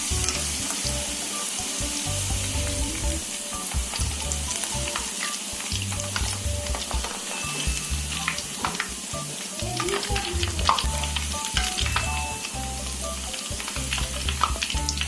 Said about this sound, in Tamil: இந்த மாதிரி மற்றதையும் நம்ம முட்டைக்கோஸ் பக்கோடா போட்டு வந்துடலாம், எண்ணெயில் போட்டு வந்துடலாம்